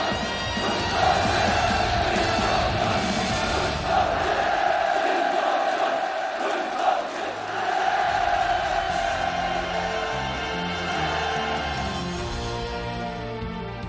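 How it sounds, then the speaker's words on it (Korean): A large crowd roars loud rhythmic cheers and shouted slogans at a construction site for a greenhouse farm in Sinuiju, massed voices rising and falling in waves over about fourteen seconds, sustained and powerful with no pauses. "당중앙 결사옹위 당정책 결사 관철의 함성을 우렁차게 터쳐 올렸습니다"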